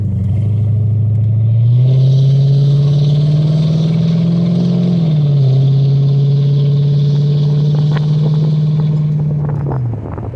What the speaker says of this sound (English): Alright guys, so you got the cold start and now we're going for a drive.